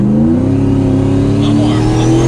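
A 1,000 HP turbocharged Ford Mustang GT accelerating from inside the car, its loud engine drone climbing steadily in pitch as the revs rise over a couple of seconds.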